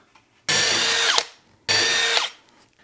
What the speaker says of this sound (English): if you're offended by me drilling through my table, it's a work table